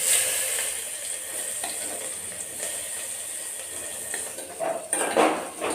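Onions frying in a pan, a steady soft sizzle with a few clinks of a utensil stirring near the end, quiet and close with no talking.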